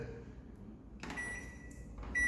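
A home microwave oven door is shut with a bag of popcorn inside, giving a firm click followed by thin electronic beeps from the panel, close by in a quiet kitchen.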